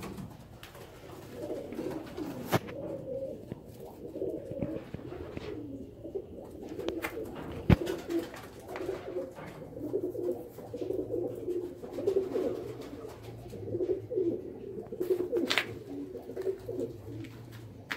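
Pigeons coo steadily in a soft, rhythmic series close by, with occasional wing flaps and light thumps as they land amid faint background noise.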